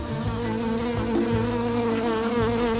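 A worker honeybee buzzes close by, a steady droning hum with slight wavering pitch and no other sounds over it.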